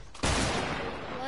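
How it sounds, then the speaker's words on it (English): A short burst of rapid gunfire in a video game match starts abruptly and rattles on in a dense, loud volley, with a voice speaking over it. "Why are you shooting at me?"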